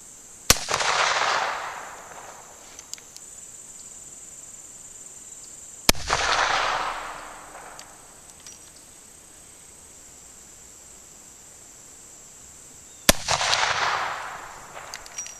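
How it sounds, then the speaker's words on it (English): .44 Magnum rifle firing Nosler 200 grain hollow point loads at 100 yards, three sharp, loud shots spaced several seconds apart, each followed by a short echoing tail over steady insect buzz outdoors. "Gonna be shooting a ladder test using the Nossler 200 grain hollow point."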